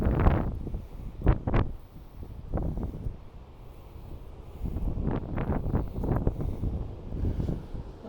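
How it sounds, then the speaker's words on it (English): Gusty wind at Bullards Beach State Park hitting the microphone in uneven bursts, low rumbling buffets that rise and fall, with no speech. "Too windy out today."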